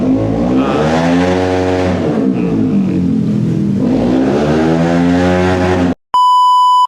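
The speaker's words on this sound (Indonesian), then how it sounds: "lagi ngetes mesin dyno, lagi ngedyno Vespa nih" A Vespa scooter engine on a dyno test rig revs hard, climbing and falling in pitch twice in a loud, close, buzzing wail, then cuts off sharply and a short electronic beep follows.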